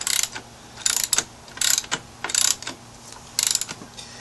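A ratchet tightens sprocket bolts on a motorcycle, with rapid clicking bursts repeating in a steady back-and-forth rhythm, close and fairly loud, with no talking.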